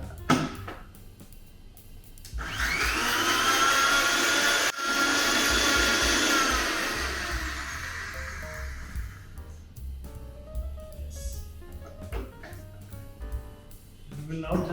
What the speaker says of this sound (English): And get it all together in a blender.